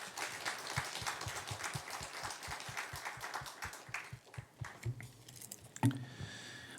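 A church congregation at an early-morning revival service claps in welcome for a preacher. The applause is faint and distant, with a steady rhythmic beat at first, then thins into scattered claps before a few quiet sounds at the end.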